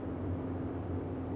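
A steady, droning hum from the propeller engines of a Boeing 247D in Microsoft Flight Simulator, throttled back to 2100 RPM, holds an even low rumble throughout with no breaks.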